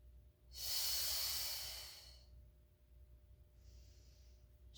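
A long, loud breath drawn through the nose during a Pilates mat exercise, hissing and fading away over about a second and a half, followed by a softer, quieter breath.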